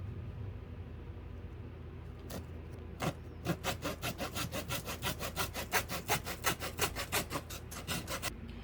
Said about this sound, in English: my little silky mini handsaw, and I'm just going to saw this right here